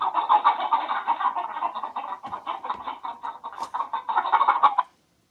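Chickens clucking steadily in a played video clip, a dense run of repeated clucks for about five seconds at moderate loudness, ending abruptly.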